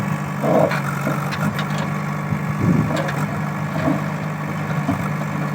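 A tractor engine idles in a village setting with a steady low rumble that stays close and fairly loud throughout, with no talking.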